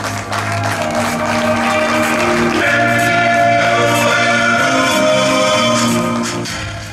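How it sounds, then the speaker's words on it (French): Applause from an audience at a ceremony presenting the Africa Cup of Nations 2023 trophy in Kinshasa, steady clapping that swells and holds for several seconds, with music or background voices underneath. "Sous vos applaudissements, s'il vous plaît."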